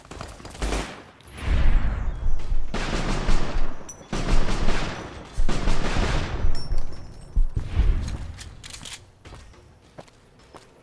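Gunfire in Fallout: New Vegas comes in a dense, chaotic exchange of shots and booms, with footsteps and impacts mixed in, loud and close for most of the stretch.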